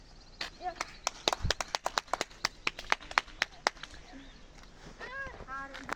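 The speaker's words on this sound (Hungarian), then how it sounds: "Tapsoljuk meg." Scattered applause from a small audience after a performance of the Hungarian children's song "A kecske ment a kertembe": a burst of sharp, irregular claps from a few people, fading as voices chat near the end.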